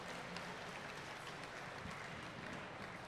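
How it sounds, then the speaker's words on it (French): Steady applause from the audience at a Japan Expo Game Show, a dense, continuous wash of clapping, moderately distant and even throughout. "On applaudit s'il vous plaît."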